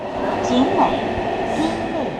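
London Underground metro train ambience in a radio jingle, a continuous rumbling roar with faint squeals and clatter, steady and fairly loud, overlapped by speech.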